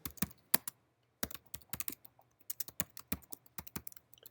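Computer keyboard typing as code is written during a programming lecture, with irregular clusters of crisp key clicks separated by brief pauses, close and alone.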